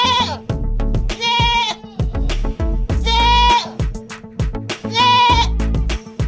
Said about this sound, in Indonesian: Wih, di ternyata ini kambing.